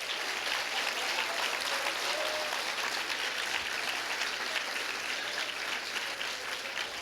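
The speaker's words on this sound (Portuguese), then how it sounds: "Aplauda Jesus" A church congregation applauding during a sermon, steady continuous clapping filling the room, somewhat distant and moderately quiet.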